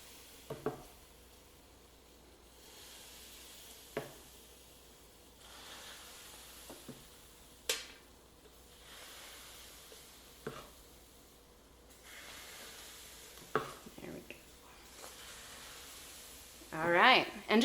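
Soft hiss of milk-free pancake batter sizzling on a pan, made with soy milk, runs beneath a few knocks and scrapes of utensils, with a person talking briefly near the end.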